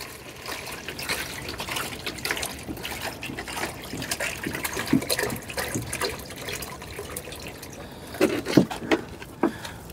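Water is poured out for animals, a continuous close splashing and trickling stream with a few louder gushes toward the end and no talking.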